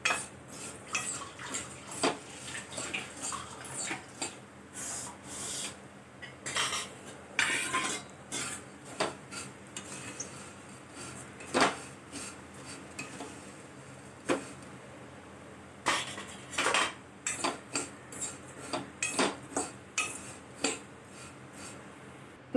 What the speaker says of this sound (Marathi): स्लो गॅसवरती भाजून घ्यायचं